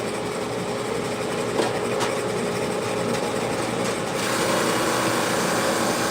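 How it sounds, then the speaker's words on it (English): A drum sander runs steadily in a woodworking shop, giving a constant broadband whirring hiss that grows slightly louder near the end, with no talking. "This is a drum sander."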